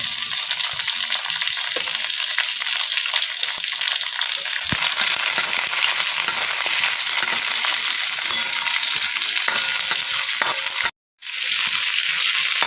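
Onion and green chillies roast in a pan for a spicy mirchi thecha, giving a steady, dense sizzle that runs throughout with a brief cut near the end; no one speaks.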